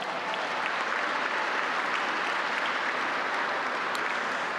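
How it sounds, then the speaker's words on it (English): An audience at an awards celebration applauds an artist, a dense, steady wash of clapping hands that holds at full strength for several seconds with no talk over it. "Give her a round of applause."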